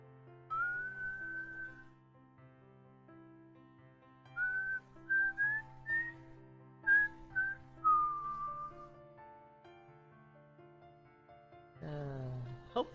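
A person whistles several short melodic phrases alone, with gliding and held notes separated by pauses, over a quiet sustained background tone, followed by a brief louder burst near the end.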